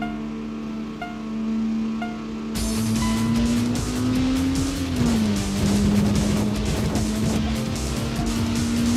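Racing car engines in the video game TXR, lined up against an NSX: a steady loud engine drone with a shifting pitch that dips and settles, joined by a burst of broader engine noise partway through.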